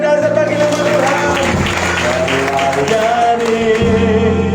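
A church congregation applauds in praise, steady clapping blended with crowd noise and sustained music or singing underneath, fairly loud throughout.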